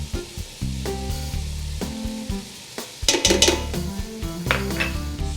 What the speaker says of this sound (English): Then stir in the tomato paste